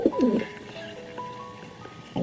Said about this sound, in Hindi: तभी मुझे छत के ऊपर कुछ कबूतरों के आने की आवाज आई।